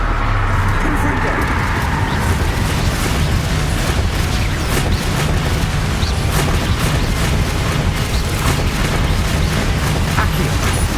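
Confringo fire spells go off in the game Hogwarts Legacy as loud, continuous rumbling explosions and booms, dense and near, with chaotic combat noise layered over the top.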